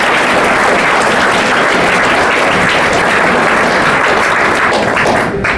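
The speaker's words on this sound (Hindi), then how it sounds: "इनको भी एक बार जोरदार ताली से स्वागत है।" Loud, sustained applause from an audience welcoming a guest at a Class 10 school farewell ceremony, dense clapping filling the whole stretch before tapering at the very end.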